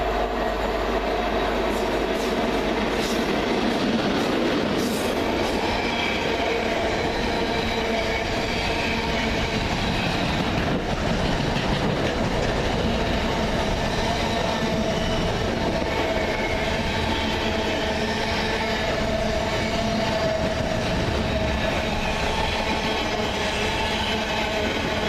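Class 90 electric locomotive 90041 hauls an intermodal freight train past the lineside at Cheddington, a steady rumbling roar of wheels and wagons on rail holding loud and close throughout with no gaps.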